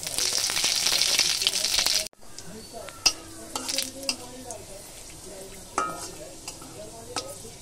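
Two dried red chilies and radhuni seeds hit hot oil in a kadai and sizzle loudly at first. The crackle then settles into a steady frying hiss, broken by clinks and scrapes of stirring.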